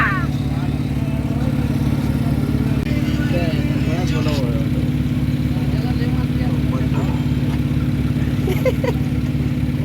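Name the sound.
running generator and road construction noise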